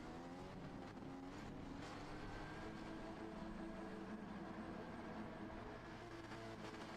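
A Genesis GR4 race car on stock tune lapping Laguna Seca in Gran Turismo 7, its engine a steady, sustained droning roar with shifting harmonic tones, quiet and continuous throughout.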